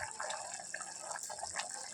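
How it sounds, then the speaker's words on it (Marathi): Water poured into a cooking pot for Indrayani rice, a steady, close splashing stream running without pause and with no voices. "आणि अगदी अर्धा तांब्यास पाणी टाकले त्याला"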